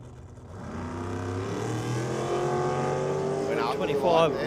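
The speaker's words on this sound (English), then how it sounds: "Jeff Alston on a solo pass on a 70 Camaro with 632 cubes of big block Chev on board." A 1970 Camaro drag car with a 632 cubic inch big block Chevrolet makes a solo pass at the drag strip, its loud engine roaring and rising steadily in pitch as it pulls away, while a commentator talks over it.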